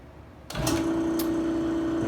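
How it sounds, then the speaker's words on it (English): A Jet 20-inch step pulley drill press drills into a half-inch steel piece with a pre-drilled hole, set on an unsteady base. After a brief quiet moment its motor starts, then a loud, steady hum with grinding continues to the end. "And we're just going to do a little drilling test."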